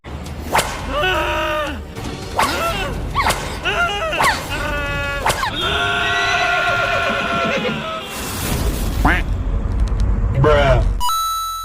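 A horse in a TV serial shapeshifter scene whinnies in several loud, rising and falling calls, broken up by sharp whip-like cracks and swishes, with voices and a dramatic sound bed around them.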